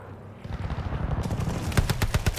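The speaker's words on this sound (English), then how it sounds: "Hostile strafe inbound." Gunfire from a hostile aircraft strafing run in the Call of Duty Vanguard video game, with dense rapid bursts building to louder, sharper volleys near the end over a continuous rumbling battle din.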